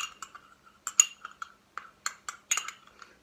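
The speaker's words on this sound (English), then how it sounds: "you're going to use the spoon to give it a little bit of a mix" A spoon clinking against a cup while stirring coffee for coffee art, a series of light, bright metallic taps spaced irregularly, close and quiet with silence between.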